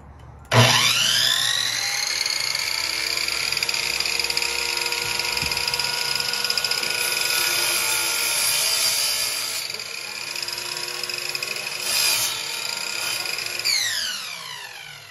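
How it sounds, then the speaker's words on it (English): A miter saw spins up and cuts through a pine board for a chess table, a steady high whining screech that holds for about thirteen seconds and then winds down, loud and close, with no talking. "So we've got the miter saw all set up, and so we'll start cutting."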